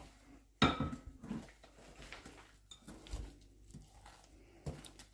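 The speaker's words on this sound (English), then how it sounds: "So now I'm going to mix it." Chocolate chip cookie dough is mixed in a bowl, with a sharp utensil clank at the start followed by irregular scraping, clinking and knocking strokes at close range.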